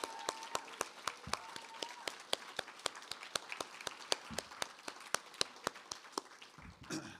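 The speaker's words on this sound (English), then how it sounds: "I think a little more applause for Cameron Awkward-Rich." Audience applauding after a faculty reading at a literary event, steady sustained clapping from a crowd of listeners with sharp claps spread evenly throughout, fairly loud and close.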